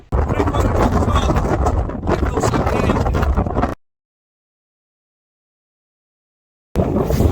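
Strong wind buffeting the microphone on a hill summit, a loud, rough roar that cuts out abruptly into silence for a few seconds before returning.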